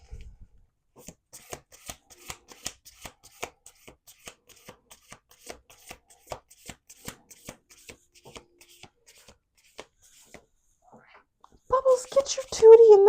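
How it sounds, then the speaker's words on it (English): Repeated crisp riffling and snapping of playing cards being shuffled, a steady run of quick flutters, followed by a short burst of louder noise at the end. "All right, let's do one more shuffle."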